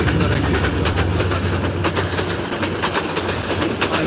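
Loud, continuous roar of a train passing close by, with rhythmic clattering of wheels on the rails and no voices.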